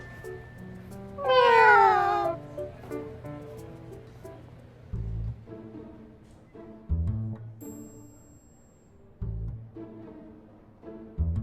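A cat gives one loud, drawn-out meow near the start in the game Love and Deepspace, followed by low, rhythmic thumps and scattered softer tones, with no one talking.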